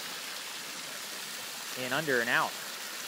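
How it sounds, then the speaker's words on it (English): Water pours steadily into tanks and ponds at a tropical fish farm, a continuous close rushing wash with someone talking briefly over it. "each tank has enough water going into it to actually replace all the water going into each one of these ponds"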